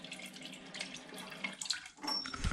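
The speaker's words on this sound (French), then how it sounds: "dès que vous le tournez, vous avez, voilà, le petit jet" A small water jet from a bidet tap beside a toilet in Turkey runs steadily, a soft hissing spray that stays close and continuous, briefly dipping before surging again.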